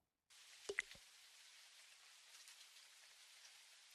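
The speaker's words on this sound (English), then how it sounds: "I've also enabled rain to come off these windows and for the ambient sounds" Rain running on the glass windows of a virtual office, a soft, steady patter and hiss that starts after a moment of silence, with a few louder knocks or taps early on.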